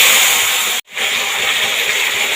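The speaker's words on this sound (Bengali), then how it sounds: "আর এই যে চটালে চটালে সিম রেখেছি, সিম আর আলু এবার ফোড়নের উপরে দিয়ে দেবো।" Broad beans and potato dropped onto nigella seeds in hot oil, producing a loud, dense sizzling hiss that cuts out briefly and then carries on just as strongly.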